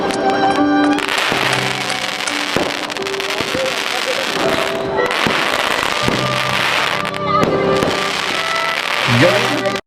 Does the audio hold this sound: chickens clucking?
no